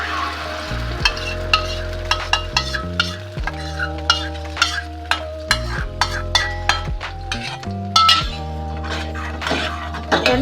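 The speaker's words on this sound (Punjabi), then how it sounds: "ਇਹਦੇ ਵਿੱਚ ਆਪਾਂ ਅੱਧਾ ਚਮਚਾ ਜੀਰਾ ਪਾ ਦਾਂਗੇ ਤੇ ਜੀਰੇ ਦੇ ਨਾਲ ਹੀ ਆਪਾਂ ਇਹ ਵਾਲੀ ਸਾਰੀ ਗ੍ਰੇਵੀ ਇਹਦੇ ਵਿੱਚ ਪਾ ਦਾਂਗੇ" Gravy added to hot oil with cumin in a pan for malai kofta, sizzling and frying steadily while a spoon scrapes and clinks against the pan in repeated strokes, close and fairly loud, with a low hum underneath.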